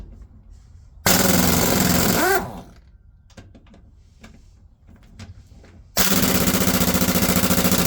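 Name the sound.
pneumatic impact wrench removing lug nuts from a truck wheel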